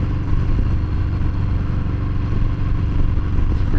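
A Harley-Davidson Fat Bob motorcycle, ridden with its check engine light on, gives off a loud, steady, close engine rumble that holds without a break, with no clear spikes of revving.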